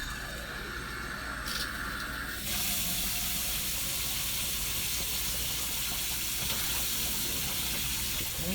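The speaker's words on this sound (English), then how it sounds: "Now I'm going to turn the water on." Water runs steadily from a brushed nickel single-handle bathroom sink faucet, a continuous close hiss that starts softer and grows fuller and louder after a couple of seconds as the flow opens up.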